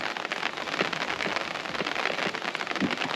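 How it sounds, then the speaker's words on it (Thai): Rain falling around a reservoir where someone is fishing, a dense continuous patter of drops hitting surfaces, close and steady with no talk. "มีฝนตกนะครับ"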